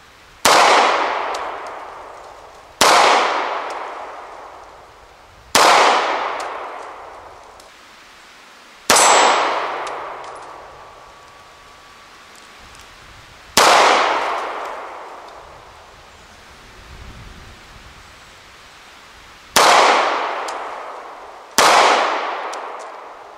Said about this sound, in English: I'm shooting right over him.